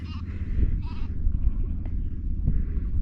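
Two short sheep bleats on an upland stretch of the Coast to Coast walking route across England, one at the start and another a moment later, moderately near over a low rumbling outdoor background.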